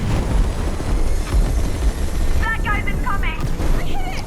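Dense rattling bursts of gunfire and booms from the video game Split Fiction roar continuously, with short electronic beeps and chirps cutting through near the end.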